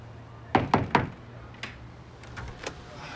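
Police knocking on an apartment door: three firm, evenly spaced raps close by, then a couple of fainter knocks, with a television murmuring in the background.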